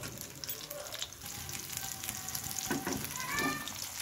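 A little oil heats in a small karai and starts to sizzle with a thin, steady hiss, with soft scraping and clinks over it.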